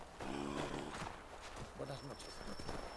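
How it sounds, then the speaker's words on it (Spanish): A horse's hooves clip-clop at a walking pace through snow in Assassin's Creed III Remastered, steady and fairly soft beneath background game sound, while someone talks over it. "Ostras, caballo."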